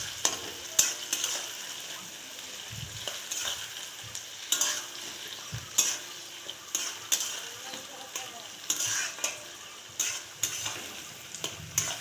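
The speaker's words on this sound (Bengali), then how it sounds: "এদিকে পেঁয়াজটা ভাজা হচ্ছে" Onions fry in a pan with whole spices, a steady soft sizzle broken by repeated scraping stirs and occasional clinks of utensil against the pan, close and fairly quiet.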